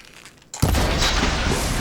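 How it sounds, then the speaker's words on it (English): In the video game Horizon Forbidden West, after a brief quiet rumble, a sudden loud blast erupts and rolls on as a dense, sustained burst of noise. "That was a violent little explosion"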